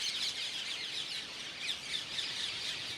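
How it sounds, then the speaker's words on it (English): Faint, shrill squawking calls from a flock of parakeets, chattering continuously in the distance. "That's the sound of parakeets."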